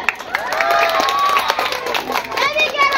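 Applause and cheering rise from a crowd at a children's preaching contest, mixed with excited children's voices and shouts that stay loud and busy throughout.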